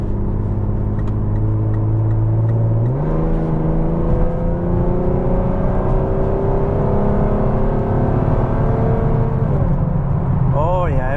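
A 5th-generation Chevrolet Camaro in drive normal mode accelerates hard, its engine note climbing steadily and dropping at a clear upshift before rising again, loud and continuous throughout with no talking.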